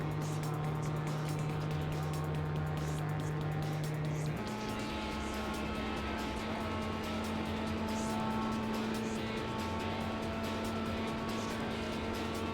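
A loud, continuous engine drone from a car in Gran Turismo 4 with a steady hum that drops and shifts pitch once, like a shift into third gear, then carries on at a higher tone.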